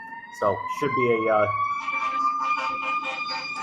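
An emergency vehicle siren sounds outdoors on Erie Avenue in Philadelphia, a steady wailing tone that rises and holds throughout, running under a voice speaking close by.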